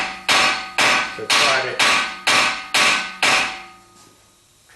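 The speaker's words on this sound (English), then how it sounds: "I'm going to tap this a little bit with a hammer" A hammer strikes a car's front hub seven times in a steady rhythm, each blow a loud, close metallic clang that rings briefly, on a 2011 Cadillac CTS AWD.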